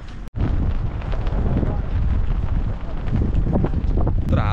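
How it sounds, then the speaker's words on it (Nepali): Strong wind buffets the microphone in open ground at an airport, a loud continuous low roar with gusting swells, while a voice speaks faintly beneath it. "तर हावा चाहिँ यहाँ दामी चल्दो रहेछ नि"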